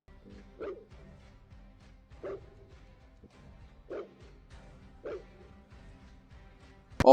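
Dogs bark at night to ward off coyotes, four evenly spaced deep barks at a distance over faint background rumble, ending with a sudden sharp knock.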